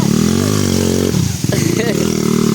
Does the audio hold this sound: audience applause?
no